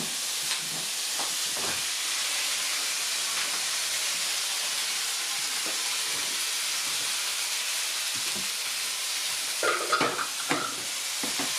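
Beef stew stirred in a pot, a steady hissing simmer with occasional soft scrapes and knocks of a spoon, louder clinks near the end.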